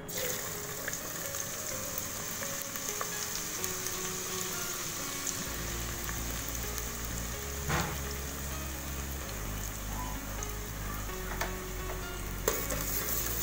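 Sliced onions frying in more than half a cup of oil for Bihari keema give off a constant dense sizzle, with occasional clinks and splashy bubbling close by.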